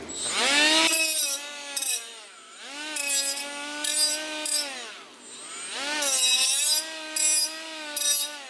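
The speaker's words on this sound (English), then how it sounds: "So has this guy, Milwaukee die grinder." A Milwaukee die grinder cutting metal on a Ford F-350 Cummins swap build gives a loud, high-pitched whine that rises and dips as it bites, repeated in several bursts of cutting.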